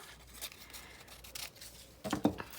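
Scissors cut a strip of washi tape in half during a craft session, a few soft snips and rustles followed by a louder, crisper cut near the end, close and quiet with no talking.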